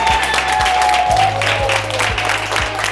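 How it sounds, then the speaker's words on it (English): Applause from a crowd fills the clip, steady and fairly loud, with a few sharper claps and voices mixed in underneath. "Clap it up for Dean Williams, please."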